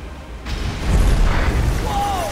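A loud explosion set off by explosives in the video game LEGO Batman 3 starts with a sharp onset and swells into a sustained low rumbling boom, and a brief rising whistle-like game tone follows near the end.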